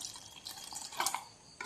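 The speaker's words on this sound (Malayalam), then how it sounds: "നമ്മളിനി തണുത്ത വെള്ളം ഒഴിച്ച് കൊടുക്കാം" Cold water is poured into cream in a home kitchen, making a faint trickling and splashing with small drips, quiet and close, tailing off before a last brief splash.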